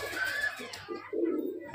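Murshidabadi Giribaz line pigeon giving a short, low, soft coo close by, over faint background noise.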